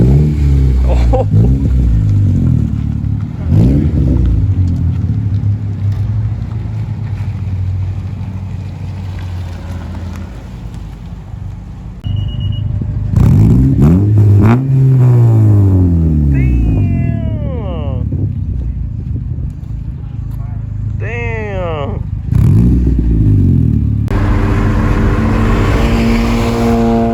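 A Honda Civic Si fitted with a Skunk2 exhaust revs repeatedly, rising and falling engine sweeps loud and close, with wind and background voices between revs.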